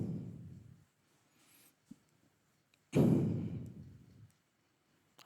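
Chalk or marker strokes on a classroom board: a few short scratchy bursts with a longer, louder stroke in the middle, close and otherwise quiet, with no talking.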